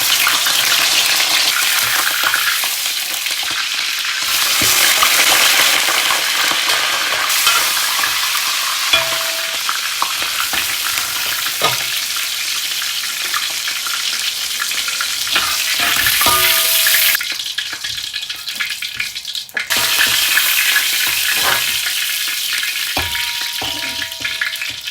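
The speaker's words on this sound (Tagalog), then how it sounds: "Fry ko muna tong pork ko." Pork frying in cooking oil in a rural Chinese farm kitchen, a steady loud sizzle throughout with intermittent stirring clatter and brief gaps, no talking.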